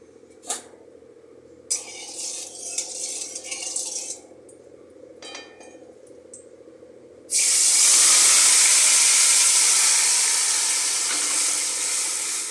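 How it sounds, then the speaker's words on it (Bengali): Marinated prawns dropped into hot white oil in a wok: a few clinks and rattles first, then a sudden loud, sustained spitting sizzle that stays strong and close before easing slightly. "তেল গরম হয়ে গেলে আমরা ম্যারিনেট করা মাছটা দিয়ে দেবো"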